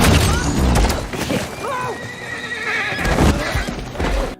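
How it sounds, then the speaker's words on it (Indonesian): A horse whinnies in a dramatic film scene, its wavering high cry rising midway over hoof clatter and a thick rumble of background effects. "kuda yang dibawa Todd patah kaki, sehingga Todd pun terpaksa membunuh kuda itu"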